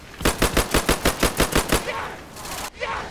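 Rapid bursts of automatic gunfire in the Roblox zombie game Michael's Zombies, about a dozen evenly spaced loud shots in quick succession, then the firing stops and only game noise remains.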